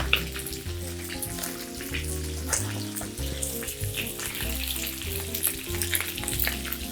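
Garlic confit frying in oil for rice noodles with shrimp, a dense, even sizzle with crackling pops that continues steadily and close, without speech.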